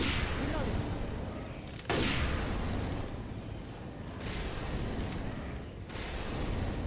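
Sniper rifle shots in the video game Dark Carnival: a few heavy, booming reports spaced a second or two apart over a loud, dense game backdrop, with voices talking in the mix.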